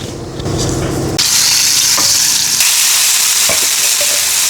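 Spices for dal kuzhambu hit hot oil and burst into a loud, steady sizzle that jumps in intensity partway through, with a few stirring clinks and no talk.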